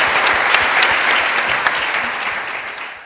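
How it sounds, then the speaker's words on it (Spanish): Sustained applause from a conference audience for the speakers at an entrepreneurship event, dense, steady clapping filling the room with no voices on top, slowly tapering toward the end. "Un aplauso para ellos y muchas gracias."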